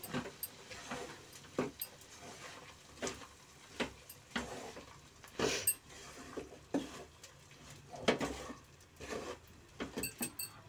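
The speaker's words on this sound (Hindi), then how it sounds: "आटे को मैं भून लूंगी" Wheat flour (atta) roasting over a low gas flame while a spoon stirs it around a pan, with scattered scrapes, clinks and taps of utensil on metal at an uneven rhythm, fairly quiet and close, no talking.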